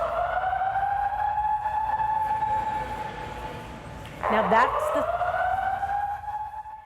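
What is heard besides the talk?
emergency alarms going off inside Kentucky Expo Center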